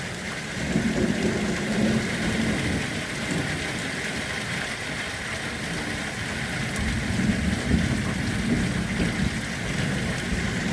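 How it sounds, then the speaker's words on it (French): A thunderstorm brings loud, steady rain pouring on surfaces, with deep rumbling thunder rolling underneath throughout, heard without any talking. "J'adore l'orage. Je n'ai même pas peur de l'orage."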